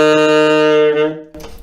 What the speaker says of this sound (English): There's bottom lip out, which is sounds something like this.